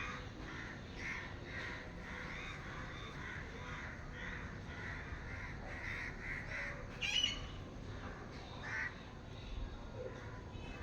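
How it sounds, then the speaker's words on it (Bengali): Crows caw repeatedly on a sunny morning, a run of harsh calls spaced about every second over a low outdoor rumble, moderately close, with no talking. "এই যে কাকগুলো কত ডাকছে"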